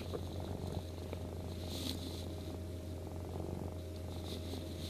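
A cat purring steadily and close up, a continuous low rumbling drone with no pauses, alone without talk.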